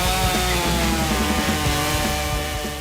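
A chainsaw roars continuously while cutting logs at a log lodge build site in Montana, its engine loud and close with slight rises and dips in pitch as the chain bites through the wood.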